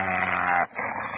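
A dog gives a sustained, tonal howling vocalization that sounds almost sung, breaking off briefly before a rougher growling follow-up, loud and close with no talk.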